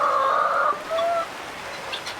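Hens cluck in a backyard coop, a couple of close, drawn-out clucks and calls, then softer clucking fading out.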